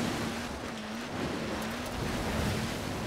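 An off-road vehicle drives through river water in Forza Horizon 4, a steady rushing, splashing wash blended with a low engine drone that wavers slightly as it pushes on, with no talk over it.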